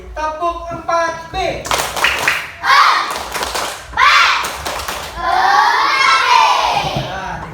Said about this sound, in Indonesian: Sekali lagi, tepuk 4B.